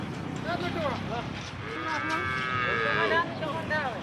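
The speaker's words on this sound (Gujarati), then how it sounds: "બંને ગાયો આવી છે આજે" Two freshly calved cows moo in a farm shed, a drawn-out nearby low then a longer rising and falling call, with faint background noise between.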